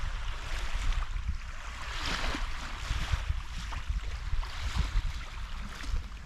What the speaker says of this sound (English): let's just listen to the voice of the water.